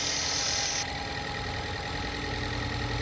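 A 2013 Ford Escape with the 2.0 engine idles steadily, a close, even mechanical hum; a brighter high hiss cuts off early, leaving the smooth idle running alone.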